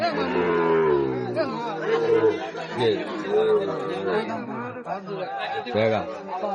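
Cattle at a border-area livestock market, with moos and lowing blending into loud, continuous crowd chatter and voices nearby, including Sahiwal bulls among the animals.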